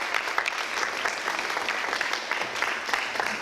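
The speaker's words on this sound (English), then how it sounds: "So let's give them a round of applause for that." Outdoor applause from a student government gathering in the rain, a dense, steady patter of many hands clapping at moderate distance throughout the short burst.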